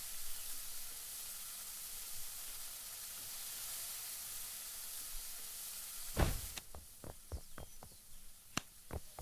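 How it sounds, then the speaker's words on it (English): Onions grilling on a hot surface, a steady broad sizzle for about six seconds, then quieter with scattered sharp ticks and pops. "now I need to grill some onions"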